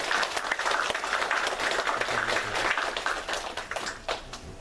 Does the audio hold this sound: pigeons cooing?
no